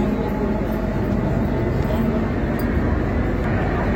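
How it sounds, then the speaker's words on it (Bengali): Kolkata metro train running between stations, heard from inside the carriage as a loud, continuous low rumble and roar, steady and unbroken throughout. "আমাদের ট্রেন কিন্তু বেলগাছিয়া স্টেশন ক্রস করে গেছে"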